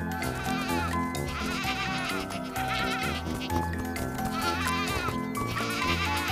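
Cartoon sheep bleat repeatedly in a children's animated series, with wavering, nasal calls layered over steady background music throughout.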